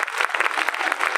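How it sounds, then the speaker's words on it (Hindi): A school audience at a Republic Day function on 26 January claps to welcome a teacher to the stage, a short, loud, dense burst of applause from many hands with no voices over it. "जोरदार तालियों के साथ स्वागत करेंगे।"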